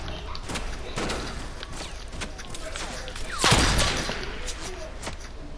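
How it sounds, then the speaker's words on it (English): Gunfire rattles through a PS4 video game as a series of sharp shots and bursts, with a louder volley midway, under occasional talk. "They're shooting. They're shooting."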